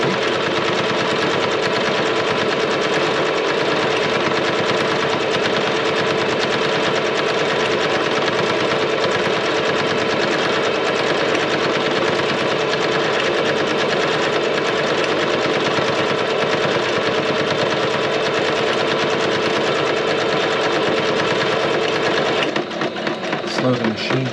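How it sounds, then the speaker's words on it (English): A cheap Walmart sewing machine stitches through paper with a steady, loud, continuous mechanical whir and rapid needle clatter, slowing briefly near the end. "this is a sewing machine I got at Walmart pretty cheap, dedicated just to sewing paper"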